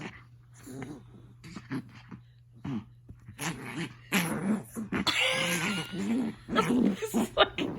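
A small Chihuahua growls and snarls angrily at bedtime in bursts that build in intensity, with whimpers and yips mixed in, close and fairly quiet, alongside a person's voice.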